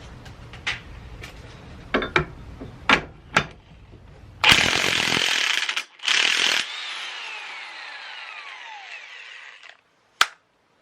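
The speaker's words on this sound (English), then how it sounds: "we need to take off this 27mm nut, and this is on there super tight, so that's where an impact is going to come in handy" An impact wrench hammers at a very tight 27mm nut on a Mitsubishi Eclipse GSX driveshaft during disassembly, with a few sharp knocks first, then two loud bursts of rattling impacts, a fading whine and one final clank.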